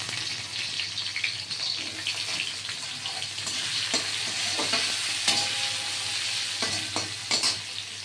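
Steady sizzling of ivy gourd frying in hot oil, with occasional stirring scrapes and clinks over a low background hum.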